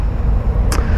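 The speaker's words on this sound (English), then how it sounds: "riding this Harley Davidson, this Roadglide CVO" Deep, throbbing engine rumble of a 2021 Harley-Davidson Road Glide CVO motorcycle being ridden, loud and close, with a brief burst of wind or hiss near the end.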